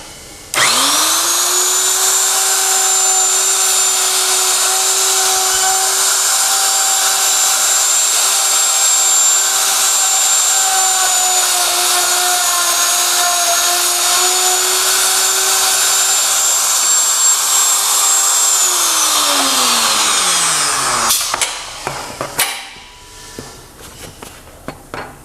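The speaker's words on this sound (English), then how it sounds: "So we'll cut a test mortise." A Norfield 250M strike jamb router spins up to a loud, steady high whine while cutting a test mortise, holds for about twenty seconds, then winds down with falling pitch, followed by a few clunks.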